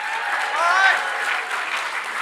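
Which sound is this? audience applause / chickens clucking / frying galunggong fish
audience applause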